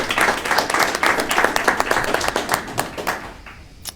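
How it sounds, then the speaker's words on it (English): Round of applause from members at a union general membership meeting, brisk mixed clapping from a modest crowd that carries on steadily, then thins and fades out near the end. "So I think you all deserve a round of"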